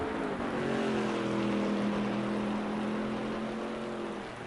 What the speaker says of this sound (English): Car sounds nasty.